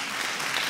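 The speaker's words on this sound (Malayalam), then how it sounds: "ജയന്റെയും ആ കമ്മിറ്റ്മെന്റിന് കൈയടി" Steady applause from a live audience at a Malayalam television show, a dense even wash of clapping with no gaps, brief and alone.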